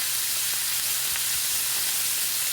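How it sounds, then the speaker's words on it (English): Beef tenderloin sears in a hot pan with a steady, even sizzle and hiss that runs unbroken from start to finish, close and fairly loud, with a faint low hum underneath and no voices. "We're just searing this tenderloin"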